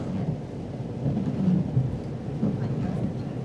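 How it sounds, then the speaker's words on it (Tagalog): Heavy rain pours outside as thunder rumbles low and steady, a dense, constant wash of storm noise with no voices on top. "Dumiretso na talaga yung ulan. Grabe ang ulan, no?"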